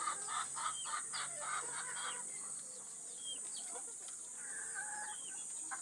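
Chickens cluck and murmur close by while being fed, with scattered short calls over a steady high background hiss.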